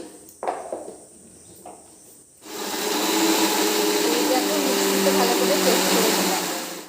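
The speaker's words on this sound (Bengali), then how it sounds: "এবার চলো মিক্সিতে পেস্ট করে নিয়ে আসি" A mixer grinder blends mango into a paste, switching on after a few soft knocks and then roaring with a steady, loud whirring drone that runs unbroken to the end.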